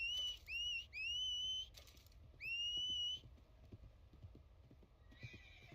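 A horse in a video game gives several shrill, rising whinnies in a row, followed by a faint, steady clip-clop of hooves.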